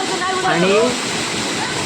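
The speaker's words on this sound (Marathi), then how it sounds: "त्या वरच्या भागात धबधब्यात पाणी कसा येतं हे बघा ह्या वरून असो धबधबो येलेलो" A steady, hissing rush of water pours down from the upper part of a waterfall in Chander Wadi, Masure village, while a person speaks briefly over it.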